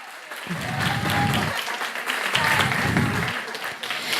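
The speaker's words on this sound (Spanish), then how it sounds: "un aplauso muy fuerte para todos estos ganadores" Loud, sustained applause from an audience of prize winners' guests fills a museum auditorium in Medellín, a dense wash of clapping running throughout with a few voices mixed in.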